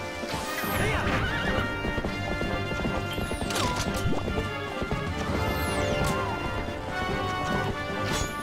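A horse gallops with busy hoofbeats and neighs in the video game Zelda Twilight Princess, loud and continuous beneath layered game music and effects.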